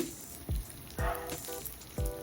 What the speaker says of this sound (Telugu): ఇంకొంచెం నెయ్యి వేసి పుచ్చగింజల పప్పు వేసి 1 కప్పు వేయించేసుకోవాలి